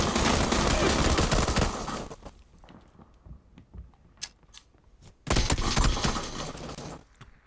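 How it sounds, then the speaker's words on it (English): Grenade explosion and gunfire in PUBG, a loud dense burst of blasts and shattering for two seconds, then scattered quieter shots and steps, followed by another heavy explosive burst near the end. "Got him with the grenade."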